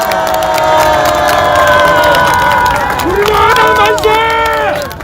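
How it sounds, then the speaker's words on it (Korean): A large outdoor crowd at a political party rally cheers and claps for the party leader and leadership, loud and dense, with shouting voices and music-like tones rising over the roar. "조원진 대표님과 당 지도부 여러분 박수 한번 쳐주시기 바랍니다"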